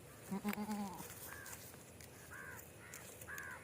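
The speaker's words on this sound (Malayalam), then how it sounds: "അതുകൊണ്ടാണ് ഇങ്ങനെ ആട് വിളിച്ചത്" A dairy goat at a livestock sale bleats a few times at moderate distance, short wavering calls spaced across the clip over a noisy outdoor background.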